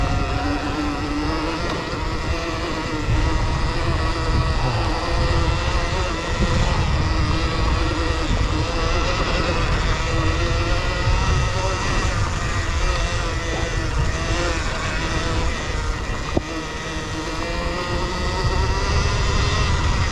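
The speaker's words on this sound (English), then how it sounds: "I think the bike is loud enough, just loud enough, so that people can hear it coming" Electric Motion Escape electric trials bike motor running with a steady whine and hum, constant and fairly loud throughout, with small shifts in pitch as it rides.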